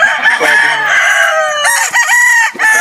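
Rooster at a gamefowl farm in San Jose, Tarlac, crowing loudly and close, with a long drawn-out crow followed by shorter repeated calls.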